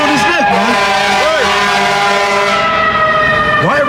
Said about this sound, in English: There's always an ambulance every time I teach.